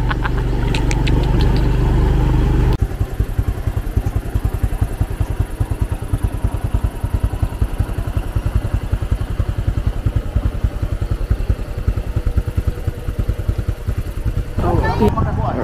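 A motorcycle engine runs with a steady, rapid low putter, close and continuous, after a short stretch of louder noise at the start.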